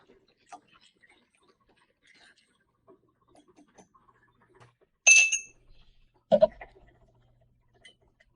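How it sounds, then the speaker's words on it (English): A quick stir of Parrot Bay coconut rum and Fanta pineapple soda in a glass, heard as a bright clink of the spoon against the glass followed by a short knock, close and otherwise quiet. "Give it a quick stir."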